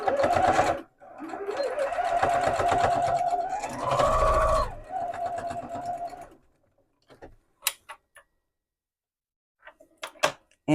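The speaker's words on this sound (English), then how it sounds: "you'll want to sew this together. Do it a couple of times just near the end." A sewing machine stitches a zipper wristlet purse in a rapid, close mechanical chatter. It runs in several bursts over about six seconds with brief pauses, then a few scattered clicks and handling taps follow.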